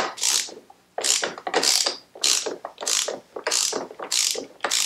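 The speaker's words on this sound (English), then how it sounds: "this compensator nut has to be tightened up" A ratchet wrench tightens a compensator nut on a Harley-Davidson Shovelhead primary drive, giving about eight loud, close, evenly spaced bursts of rapid clicking with short pauses between strokes.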